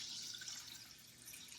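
Plain water poured over barley in a pot for a Turkish West African braised oxtail dish, a soft, steady hissing splash that runs continuously and fairly quietly, with no talking.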